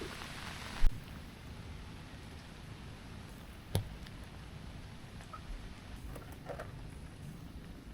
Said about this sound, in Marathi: खूप जोरात पाऊस आला आता.